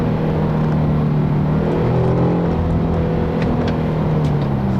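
A 2012 Infiniti G37 Journey accelerating hard in manual mode, loud engine drone with rising and shifting tones heard from inside the cabin, continuous with no talk.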